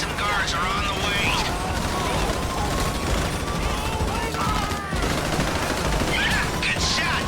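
Rapid bursts of gunfire during a loud casino heist in GTA V, dense and continuous with clattering shots layered over game sounds and voices talking.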